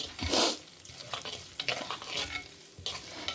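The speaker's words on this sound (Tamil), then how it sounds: "கடுகு, வெந்தயம் எல்லாம் நல்லா பொரிஞ்சு செவந்து வரணும்." Mustard and fenugreek seeds spluttering and frying in sesame oil for an aubergine kuzhambu, with a steady close sizzle, scattered crackles and a couple of stirring scrapes in the pan; no one speaks.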